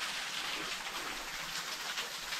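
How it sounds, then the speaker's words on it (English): Waterfall rushing outdoors, a steady, even hiss of falling water heard from some distance at moderate loudness, with no other sounds breaking through. "Made it to another waterfall."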